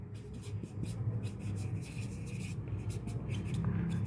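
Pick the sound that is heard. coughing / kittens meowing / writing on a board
writing on a board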